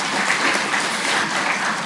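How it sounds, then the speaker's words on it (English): Graduation audience at a community college ceremony breaks into sustained applause, a dense, even wash of many hands clapping close by, with no talking heard over it. "yes, let's applaud."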